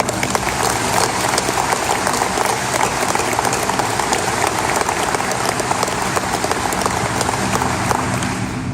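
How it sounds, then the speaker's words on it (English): An audience at a military commander's call applauds loudly and steadily, a dense wash of many hands clapping without pause throughout. "Let's all give them a big round of applause."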